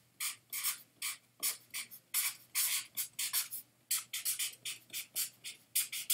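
Pen or marker writing notes in an art journal, a series of short close scratchy strokes in quick irregular bursts, faint and with no talk over it.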